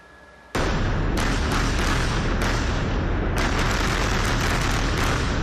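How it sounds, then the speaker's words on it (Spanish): Loud, continuous blasts and rumbling from a series of explosions after a nighttime air strike bombardment on Beirut, with sharp bursts recurring every second or so over a sustained roar. "Un bombardeo nocturno fue seguido de una serie de explosiones"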